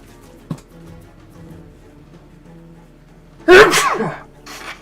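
One loud, close human sneeze bursts out near the end, sharp and forceful, following a quieter stretch of faint room sound and a small earlier sniff or breath.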